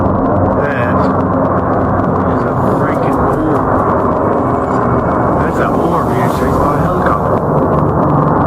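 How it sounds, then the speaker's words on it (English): A helicopter flies overhead, producing a loud, steady, broad engine and rotor roar that fills the whole stretch without a break. "Being followed by a freaking helicopter."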